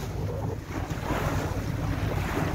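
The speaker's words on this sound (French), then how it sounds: "Bon ben la route se poursuit au moteur hein." A Sun Odyssey 35 sailboat motors along at about five to six knots, heard as a constant low engine drone mixed with rushing water, waves along the hull and heavy wind buffeting the microphone.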